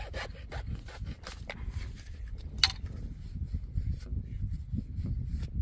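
A pipe being sawed during a repair of a water leak, close rasping strokes in a quick back-and-forth rhythm that fade into a low background rumble.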